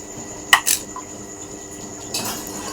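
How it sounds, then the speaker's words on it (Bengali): Roasted spices, coriander, cumin, dried chili, tamarind, chopped chili and salt mixed in a bowl: two brief clinks of a utensil against the bowl, then a softer scraping stir, close and quiet. "এখন এটাকে মাখিয়ে নেব।"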